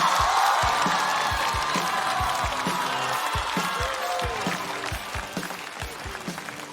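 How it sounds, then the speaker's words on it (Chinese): A stand-up comedy audience gives a loud welcoming round of applause, with cheers and whoops on top of dense clapping. The ovation fades gradually toward the end, and a few heavy low thuds punctuate it. "掌声欢迎翟佳宁。"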